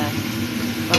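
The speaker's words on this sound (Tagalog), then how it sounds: "igisa na natin ang sibuyas at bawang" Onion and garlic sautéing together in a hot pan, a steady frying sizzle with stirring scrapes, close and continuous for a brief moment.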